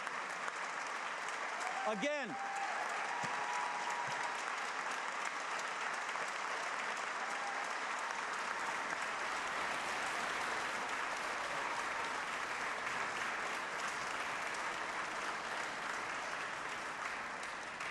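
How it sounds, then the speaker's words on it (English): At a governor's State of the State address, the audience applauds building restoration workers seated in the gallery, sustained steady clapping filling the hall for many seconds after a brief spoken word. "Give them a round of applause."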